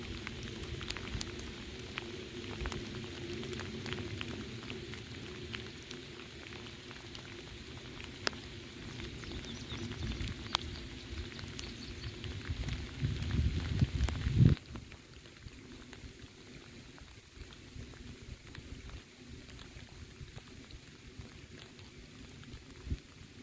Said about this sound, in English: this is about the lightest the rain has been